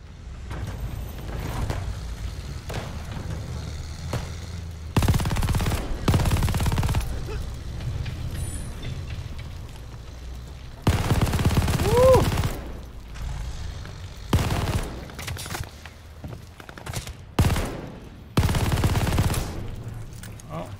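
Machine gun fire in Call of Duty: Vanguard, loud bursts of automatic shots in several separate volleys, up close over a low rumbling battlefield background.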